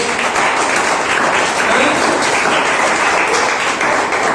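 A church congregation breaks into sustained, loud applause, a dense wash of many hands clapping close by that holds steady throughout with no pause.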